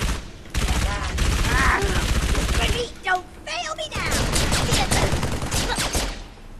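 Rapid gunfire bursts and impacts from the video game Halo ODST fill the scene, with loud repeated shots over game effects while someone talks throughout.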